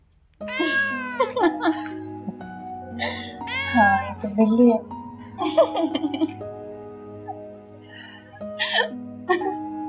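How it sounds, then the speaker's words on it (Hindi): A cat meows several times close by, with drawn-out rising and falling cries mixed in among people talking and giggling. "ये तो बिल्ली है।"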